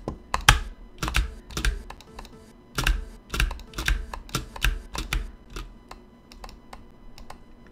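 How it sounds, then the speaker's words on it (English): Computer keyboard typing, close and clear, in irregular bursts of sharp key clicks with short pauses between runs, no voices. "Oh, look, the keyboard works."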